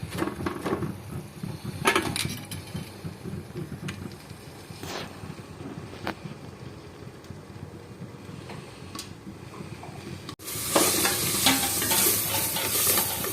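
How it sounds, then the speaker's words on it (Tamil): Avuthi greens being sautéed in a pan for a Tamil sothi, with steady close sizzling and occasional scrapes of stirring, the frying growing much louder and brighter near the end. "இன்னும் கொஞ்ச நேரம் நல்லா வதக்கணும்."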